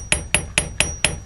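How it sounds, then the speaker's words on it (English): The rounded end of a hammer taps wire six times in an even rhythm to texture a beaded wire heart charm, each sharp metallic strike ringing briefly, close and loud. "Now I'm going to take the rounded end of the hammer and add some texture."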